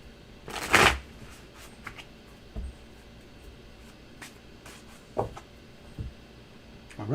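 A single quick riffle of a tarot deck near the start, followed by a few faint taps and soft handling sounds in a quiet room.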